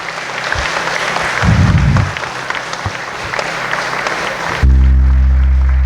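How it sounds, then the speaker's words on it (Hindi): An audience claps loudly at a church Advent retreat to thank God, a dense sustained round of applause that ends abruptly, followed by a low steady hum. "जोर से ताली बजाकर परमेश्वर को धन्यवाद दे"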